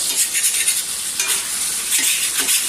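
T-bone steak sizzling and frying steadily in a pan with seasonings, a continuous loud hiss with faint stirring scrapes throughout, no talking.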